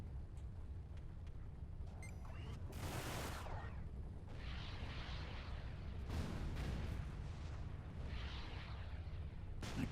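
Missiles firing during space combat in the video game Everspace, a run of loud, dense blasts and rumbling bursts, with one big roar early on and further explosive surges later over a steady low engine drone.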